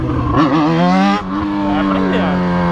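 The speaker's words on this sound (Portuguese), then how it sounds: "Vou dar uma puxadinha no acelerador aqui." A motorcycle engine revs sharply as the throttle is twisted, rising and falling in pitch in a couple of quick bursts before settling into a steady high drone, close and loud.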